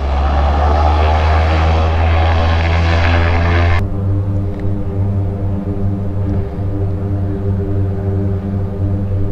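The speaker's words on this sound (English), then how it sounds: "Seaplane is off." Harbour Air seaplane taking off in Victoria Harbour, a loud steady propeller engine roar with strong low hum that drops in pitch and brightness partway through as the aircraft pulls away, continuing without talk.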